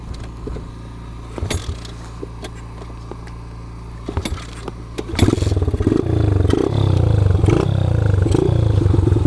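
A Kawasaki KLX 110 pit bike fitted with an FMF exhaust idles with a low throaty burble, then revs up around the five-second mark and holds a loud, raspy, steady run close by.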